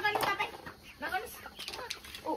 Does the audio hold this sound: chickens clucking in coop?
yes